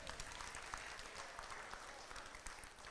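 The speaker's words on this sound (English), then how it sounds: "Let's give her a nice round of applause." Spectators at a market hog show at the State Fair of Virginia give a round of applause, a faint, distant, steady patter of clapping in a large, open space.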